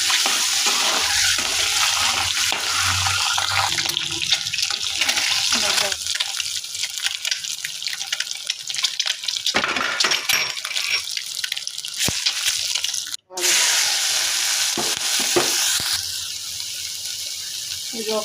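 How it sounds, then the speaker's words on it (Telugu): Eggs with turmeric sizzle and fry in a kadai, a steady loud crackling hiss running throughout with brief stirring scrapes and one short pause. "పసుపు వేసుకోవాలి, గుడ్లు వేసేసుకోవాలి. ఇవి కొద్దిగా దోరగా వేసుకోవాలి."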